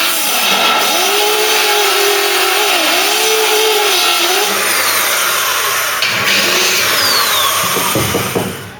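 Power sander grinding along the front edge of the B pillar on a Mk3 Cortina under restoration, a loud steady whine with the tool's pitch dipping and recovering as it bears on the metal, then a few knocks at the end.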